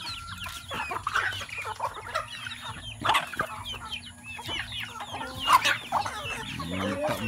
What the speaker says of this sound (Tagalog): Lalaki na yung mga manok namin guys.